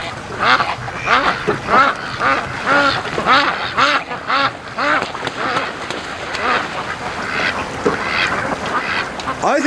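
Free-range ducks quack loudly and continuously in dense overlapping bursts as a goose tries to mount a female duck, with someone talking faintly in places.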